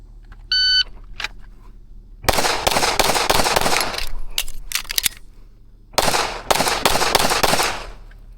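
Pistol fire on an IDPA shooting stage: a short timer beep, then a rapid string of sharp, close shots, a brief pause, and another quick burst of shots.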